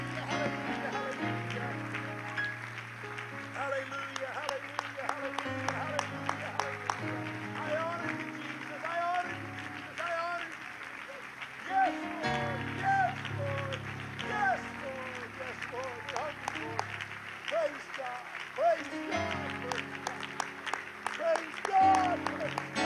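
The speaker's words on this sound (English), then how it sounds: "Would you give God a hand clap of praise right now?" A church congregation at a youth conference claps in praise, with dense rapid hand clapping running throughout under a preacher's loud voice and sustained music.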